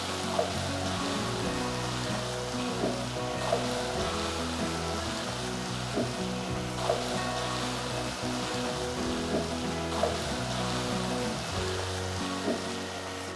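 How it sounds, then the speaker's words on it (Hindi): Small splashes of water hit masala paste frying for Lahori chana, giving a steady, dense hiss like rain on a hard surface that holds evenly for the whole stretch, with no talking. "ये पानी हम डाल रहे हैं तो ये ताकि ये जले ना, थोड़ा थोड़ा सा पानी हम मसाले में डालते रहेंगे"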